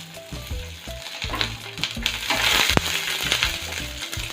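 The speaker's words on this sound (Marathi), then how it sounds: "आणि त्यातच आपल्याला हा एक कांदा मी असा पाकळ्यांमध्ये कट केलेला आहे तो घालायचा आहे." Garlic and onion petals frying in hot oil on a full flame for Idli Manchurian, a loud steady sizzle with stirring scrapes and clinks throughout, no talk.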